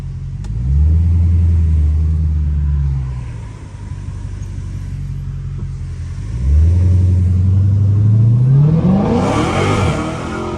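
A Dodge Challenger Hellcat's engine revs hard during a hurricane, loud and close, with two long rising-and-falling surges of deep roar, the second climbing into a strained high whine, over a steady hiss of wind and rain.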